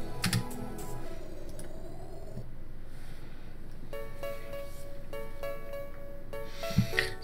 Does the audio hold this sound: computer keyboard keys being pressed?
yes